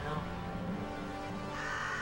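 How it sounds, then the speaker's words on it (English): A crow caws in a Bullet Witch video game cutscene, set against a steady layer of game music and ambience that runs throughout. "Ah, it's a bird!"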